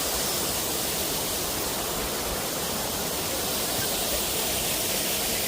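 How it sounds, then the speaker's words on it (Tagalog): Steady roar of a waterfall in Naha, Okinawa, Japan, a dense broadband rush of falling water that stays constant and fairly loud throughout with no talk over it. "Meron silang waterfall."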